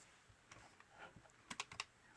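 Numbers tapped into a keypad: faint, scattered soft clicks that quicken into a short cluster of sharper presses, with no talking.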